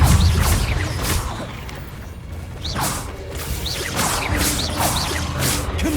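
Repeated Confringo blasting spells cast in the Hogwarts Legacy game inside a cave maze, a series of whooshing bursts roughly every second or so over a dense, rumbling backdrop of game sound.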